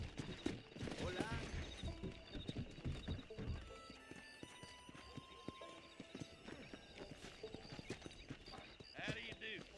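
Horse hooves clip-clop steadily in the western video game Red Dead Redemption, with occasional whinnies and voices talking over the rhythmic hoofbeats.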